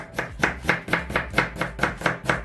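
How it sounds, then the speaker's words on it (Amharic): A knife chops onion on a cutting board for a fasting-style soup, with about ten crisp, evenly spaced strokes in a brisk steady rhythm, close and clear with no talking. "ሽንኩርቴን በመክተፍ ጀምራለሁ ማለት ነው።"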